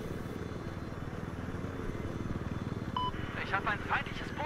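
An enemy helicopter in the video game Battlefield 4, on a naval strike map, gives a steady rhythmic rotor thrum that runs throughout the clip, with faint higher game effects near the end.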